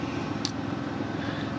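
A Volkswagen up! hatchback with a 1.0 litre petrol engine idles steadily in the background, a low continuous hum with no talk over it.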